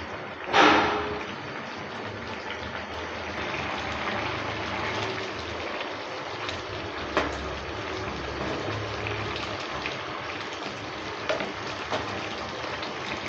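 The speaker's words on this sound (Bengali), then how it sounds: "এবার হাই স্পিডে 3 থেকে 4 মিনিট ভালো করে ফুটিয়ে নেব।" A taro and prawn curry bubbles vigorously on high heat, a steady close gurgling simmer with a brief louder splash near the start and a few soft clicks.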